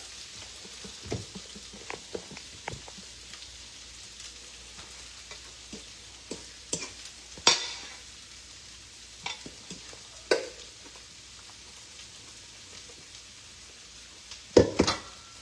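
Breakfast food frying in hot grease, a quiet steady sizzle broken by scattered sharp pops and crackles, a few louder spatters standing out near the end.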